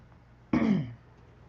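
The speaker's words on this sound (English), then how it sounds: "I'm going to be sniffing and clearing my throat because I've got this sinus thing going on" A single throat clearing from someone with a sinus ailment, one short rasping burst of about half a second standing out loud and close against a quiet room.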